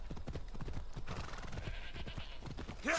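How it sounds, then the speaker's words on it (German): Horse hooves clip-clop at a quick, steady rhythm in the video game Assassin's Creed Odyssey, loud and continuous, ending in a short neigh. "Auf jeden Fall werden wir mal unser Pferdchen holen."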